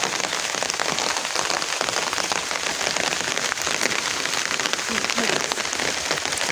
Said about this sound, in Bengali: বৃষ্টি এসে গেল।